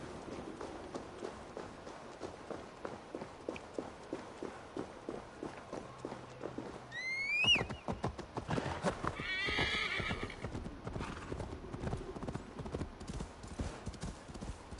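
Rhythmic hoofbeats of a horse galloping steadily through wilderness in the video game Assassin's Creed Valhalla, joined midway by a loud whinny, with a busy outdoor ambience behind.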